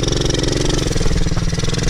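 A KTM 250 or MRF 80 motorcycle engine revs steadily as throttle is given, loud and close, a continuous buzzing drone with slight surges throughout.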